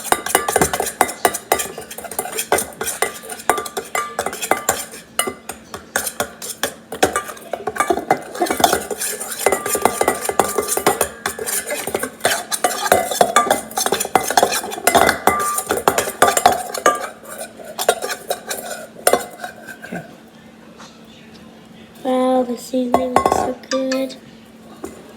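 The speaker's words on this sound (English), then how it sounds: "we're gonna take my spoon and start mixing it up again" A spoon works paprika through raw meat in a bowl, with steady scraping and clinking of metal against the dish running throughout and a few sharper knocks near the end.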